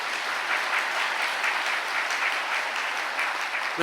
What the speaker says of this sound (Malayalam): ഒന്ന് കൈയടിച്ച് കർത്താവിനെ മാത്രപ്പെടുത്തുകയാണ്